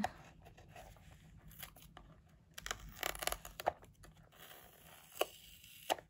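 Quiet crackling and tearing noises come in short bursts, like tape being pulled off a surface, with a few sharper rips close by.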